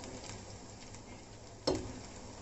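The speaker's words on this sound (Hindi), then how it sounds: "अब हम इसको टर्न कर लेंगे और दूसरी तरफ से भी फ्राई होने देंगे।" Spinach leaf fritters (paalki) fry in oil, a quiet steady sizzle with a single sharper tap of the utensil partway through.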